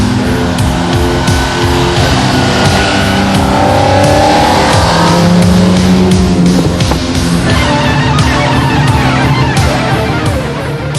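TVR Cerbera sports car driving hard, a loud engine roar with gear changes and rising revs, tires squealing through corners, continuous and close for the whole stretch.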